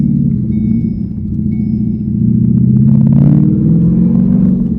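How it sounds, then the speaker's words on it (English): A 2019 Ford Mustang GT engine with a cold air intake revs loudly and close by, with a deep rumble and a rising, breathy intake roar. "I can hear that cold air intake too. That thing sounds good."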